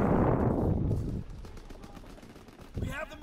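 A PPSh submachine gun fires in a World War II video game, dense bursts of rapid shots up close, then scattered distant gunfire, with a player's voice talking over it.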